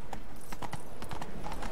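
Roach the horse from The Witcher 3 walks with a quick run of clip-clopping hoofbeats, close and crisp, repeating in an uneven rhythm over a steady background.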